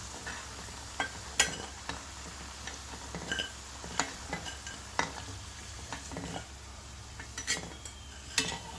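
Fried taro pieces being lifted out of a hot pan of oil, with a soft continuous sizzle under repeated sharp clinks and scrapes of a utensil against the pan, close and fairly quiet, with no talking.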